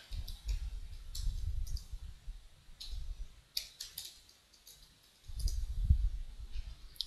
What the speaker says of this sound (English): double click here, enter the username and the password